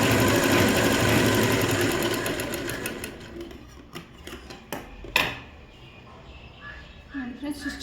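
A sewing machine runs fast while stitching a plain blouse, a rapid mechanical whirr that slows and stops, followed by a few clicks and handling knocks nearby, close and fairly loud.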